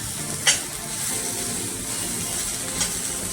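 Curry leaves and masala hiss in a frying pan with roasted garlic, chili and onion for a garlicky fenugreek bhaji, a close, steady sizzle broken by two quick stirring clinks.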